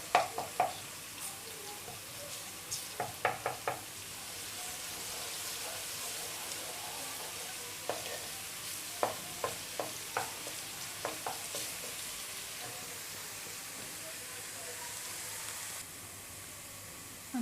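Ingredients for a rajma dish, red kidney beans cooked in an Urdu recipe, sizzle gently in a pan while being stir-fried until brown, with a steady frying hiss and intermittent clacks of a spoon stirring.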